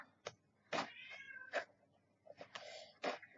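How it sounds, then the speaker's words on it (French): A house cat meows and grumbles in a string of short, close, complaining calls, a few rising and drawn out, with no talking. "Alors, j'ai un chat qui râle."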